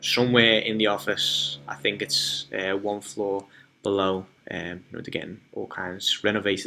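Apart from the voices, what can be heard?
No distinct noise like a dog, phone or traffic.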